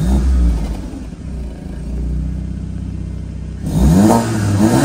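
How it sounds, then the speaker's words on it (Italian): Porsche Macan 2.0 TFSI with 252 hp and a stage 2 tune revving hard, its exhaust giving a deep, loud roar that rises, holds through a steady drone, then surges again near the end. "Adesso quando si spalanca il gas il motore si sente veramente e dallo scarico fa anche un bel timbro."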